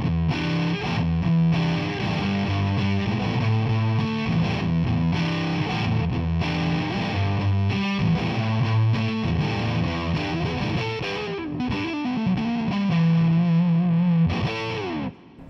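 An electric guitar played through a handmade custom fuzz pedal gives thick distorted chords and sustained riffs with shifting notes, loud and continuous with no talking.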